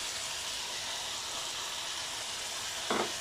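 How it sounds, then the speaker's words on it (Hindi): Vegetables fry on a high flame for Chinese fried rice, giving a steady hiss and crackle of hot oil with a brief louder stir or clatter near the end. "तो बस तेज़ आंच पे हम वेजिटेबल पहले फ्राई करेंगे"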